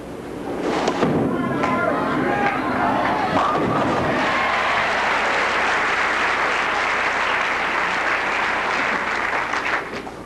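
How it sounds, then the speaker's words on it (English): A capacity crowd at the 1983 Fair Lanes Open bowling tournament applauds appreciatively, with thuds of pins or balls early on, then steady, full clapping that fades slightly at the end. "Appreciative applause here by this capacity crowd"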